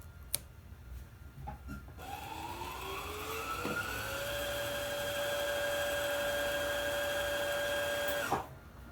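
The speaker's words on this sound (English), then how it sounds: "Now I can clip the thread and continue to fill my bobbin." A sewing machine's bobbin winder whirs steadily as thread fills the bobbin, its tone rising as it spins up, then holding a smooth even hum before stopping abruptly.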